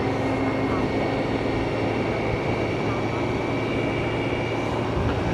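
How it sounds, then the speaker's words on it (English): A BMW K1600 GTL motorcycle engine gives a steady, low turbine-like whine beneath a loud continuous rush of wind and road noise at riding speed. "Just has that very low turbine whining sound."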